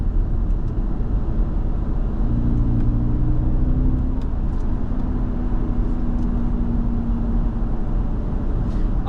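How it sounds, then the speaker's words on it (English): A 2010 Jaguar XF 4.2 V8 hums as a low, steady groan heard from inside a quiet cabin while cruising, with a faint rising tone as the engine pulls. "You just get that nice baleful groan of the engine, just kind of constantly reminding you that you're in a V8"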